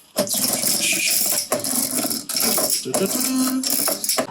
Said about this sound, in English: So you push it down and this would cause it to spin.